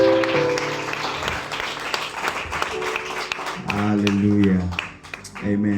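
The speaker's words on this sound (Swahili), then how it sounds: "Pigia dadi makofi" A congregation at a church youth service claps, with a loud, sustained patter of hands mixed with voices calling out and talking over it.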